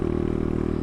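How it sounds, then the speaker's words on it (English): A Kayo K2 230 dirt bike's muffler gives a deep, steady burbling exhaust note, loud and close, with a rapid even pulse throughout the short burst. "You hear that muffler though? The bark that this bike has for being a 230 right out of the box"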